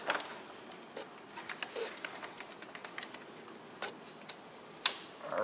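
A car battery cable plug is pressed into its connector and snaps into place with a faint, sharp click, surrounded by softer ticking and handling sounds in a quiet space.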